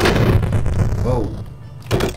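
Loud, booming explosions and blasts from the Superfighters video game, dense and continuous, with a rumble that fades slightly before another hit near the end.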